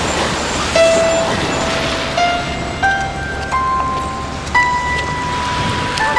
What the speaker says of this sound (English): Well, it's kind of raining.